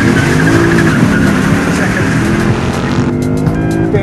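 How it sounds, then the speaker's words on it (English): A BMW, a Mercedes and a Vauxhall super saloon launching at full throttle in a quarter-mile drag race with stability control off, loud roaring engines and tire squeal that stay dense and close throughout. "quarter-mile drag race, ESP off, and just hold it on the brakes, and then when you get go, just full throttle"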